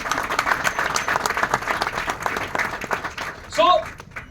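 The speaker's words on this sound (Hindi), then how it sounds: "के लिए जोरदार तालियां।" Loud applause from an audience at a training program held in a hall, dense steady clapping filling the clip, with a brief voice or cheer rising near the end.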